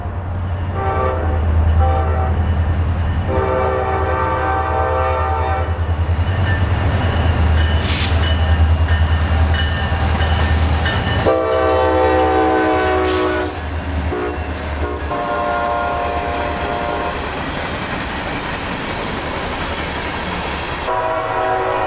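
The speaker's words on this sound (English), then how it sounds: "a southbound local with a rebuilt SD40-3 leading and a now rare standard cab SD40-2 trailer" A southbound local freight train led by a rebuilt SD40-3 with a standard cab SD40-2 trailing rumbles past close by, loud diesel drone and rolling wagon noise steady throughout, with horn-like tonal blasts rising over it.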